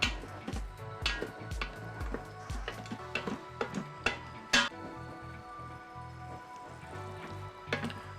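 Vigorous scraping of a wooden spoon across the bottom of an Instant Pot while deglazing for vegetarian chili mac, a series of sharp close scrapes and clatters over a faint wet sizzle, with no talking.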